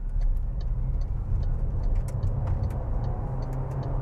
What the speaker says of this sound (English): You can hear the engine does kick in and strain a little bit